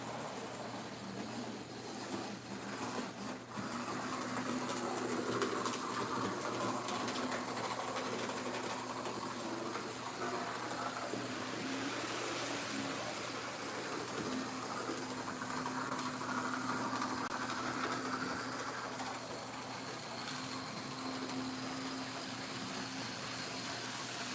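An HO scale model train runs on a home layout, its small motor giving a steady whirring hum with faint rail clatter that rises and falls as it passes, with no talking.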